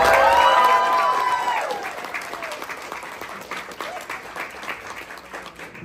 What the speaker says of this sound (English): you guys are gonna help decide who could potentially go down there by cheering and clapping and showing your love for these comics